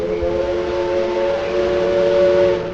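A steam train whistle used as a sound effect in a Sherlock Holmes audio story, one loud continuous tonal blast held steadily for nearly three seconds over rumbling rail noise, with no talking.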